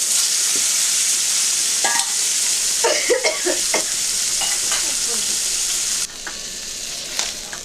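Bhola fish frying in hot oil in a kadai, a loud steady sizzle throughout with occasional spatula scrapes and turning clatter, dropping slightly toward the end.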